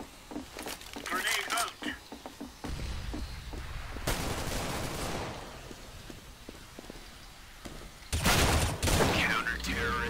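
CS:GO gunfire during a competitive match, with bursts of rifle shots and rapid volleys over in-game sounds while players talk over one another.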